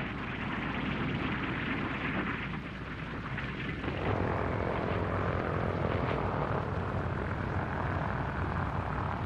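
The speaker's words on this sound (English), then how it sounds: "B-17 Air Force drones land at Iniwetok." Loud, steady roar of B-17 drone aircraft engines droning continuously as they land at Eniwetok, close and powerful, with no voices.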